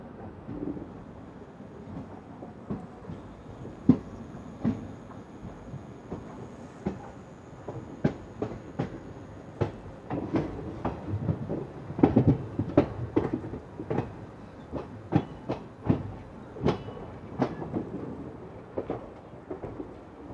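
A suburban train runs on the Chennai Beach–Egmore line, its steady rumble broken by rhythmic clickety-clack wheel knocks over rail joints that grow denser midway, with no talking.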